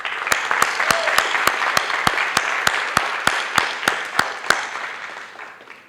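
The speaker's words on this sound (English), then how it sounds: "Let's give them a round of applause." An audience at a high school senior honors ceremony applauds steadily for several seconds in a large room, with sharp, regular claps standing out above the crowd before the applause fades.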